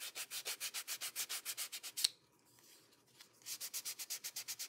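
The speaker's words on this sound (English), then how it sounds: "let's sand her a little bit" A craft project is sanded by hand in quick, even back-and-forth rubbing strokes, close and distinct. The strokes pause briefly midway, then the same rhythmic scraping resumes.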